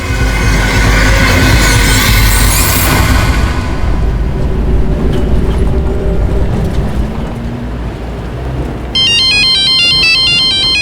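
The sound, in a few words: phone ringtone ringing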